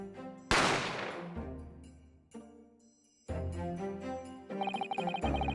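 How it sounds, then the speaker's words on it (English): A single loud gunshot cracks out in the video game The Great Ace Attorney, a sudden burst over dramatic music that then fades into further musical swells. "I didn't have time to think about where the sound of the gunshot had come from."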